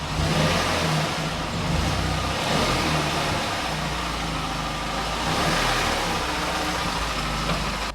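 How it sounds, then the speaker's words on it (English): A raspy Vauxhall Corsa hot hatch, a cheap track-car project, drives into a garage, its engine a steady, loud, gritty drone that holds near and constant, with no talk over it. "There we go then, one little raspy Corsa in the garage"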